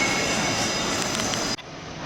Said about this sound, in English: Another train in, platform 6 this time.